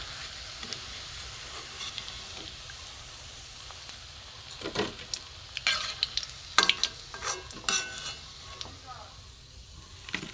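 Katla fish balls sizzle in frying oil in a pan, a low steady crackle that grows busier midway with clustered spatula scrapes and clinks as pieces are lifted out.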